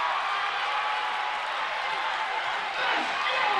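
A lively crowd at a Hornets college men's basketball game roars continuously, a broad sustained wash of cheering and noise from the stands that swells slightly near the end.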